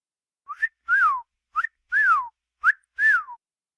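A person whistles in imitation of a parrot, giving three pairs of short rising chirps each followed by a longer falling whistle. The calls are clear, close and evenly spaced, with no talk over them.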